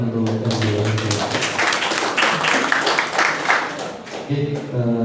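Audience applause at a Kampung Pancasila community outreach event in Surabaya: dense, sustained clapping from a crowd, fairly loud, filling most of the few seconds, with a hum of background voices underneath.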